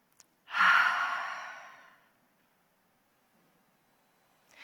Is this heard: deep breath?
yes